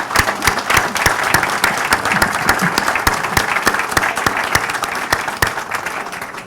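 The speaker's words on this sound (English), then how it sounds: "Another huge round of applause" An audience at a Collected Works Bookstore author event gives warm, sustained applause, many hands clapping densely and evenly from start to finish.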